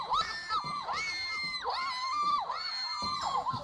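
Several young women scream during a crime-scene episode of a reality show, with high, shrill, overlapping shrieks that swoop up and down in pitch and continue almost without a break.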